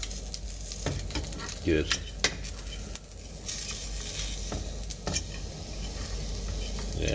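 Bacon fries in a pan, its fat and oil hissing in a steady close sizzle, broken by a few sharp clinks and scrapes of a utensil, with a brief spoken word.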